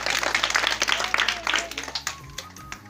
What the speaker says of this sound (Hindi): इस बच्चे के नाम की ताली बजाइए